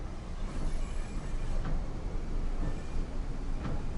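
Class 377 electric train running on the Tees Valley Line in Train Sim World 6, a steady low rumble of wheels on track with faint rhythmic clicks, no voices.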